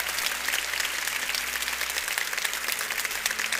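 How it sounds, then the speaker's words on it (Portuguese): A church congregation claps loudly for the people gathered at the altar, a thick, continuous roar of many hands that stays strong and even from start to finish. "Eu quero pedir mais uma vez um forte aplauso a todos aqueles que estão aqui no altar."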